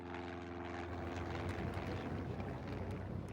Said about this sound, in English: a Cessna light aircraft landed in Red Square